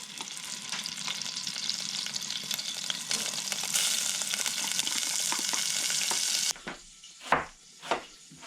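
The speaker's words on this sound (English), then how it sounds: "we're gonna put some butter in there. So we're gonna fry our onions." Onions frying in olive oil and butter in a small pot, a loud dense sizzle that swells midway, then drops off abruptly, leaving a few brief stirring clunks near the end.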